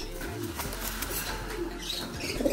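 Pigeons coo softly in low, repeated throaty calls, set against steady background noise with no talking.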